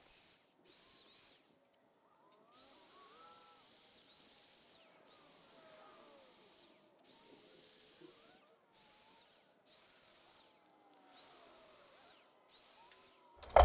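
Sandpaper scrubs over old ghosted decals in repeated bursts, a close, raspy hiss in about nine even strokes with brief pauses between them.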